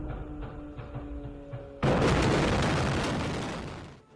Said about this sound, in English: the first of several cluster bomb strikes rips down the street. Each a collection of mini explosions